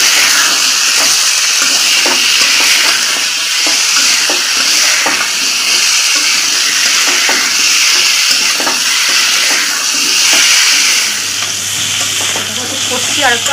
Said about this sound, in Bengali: টমেটো একটু আর কি ভেজে ভেজে নিচ্ছি এইভাবে টমেটোটা।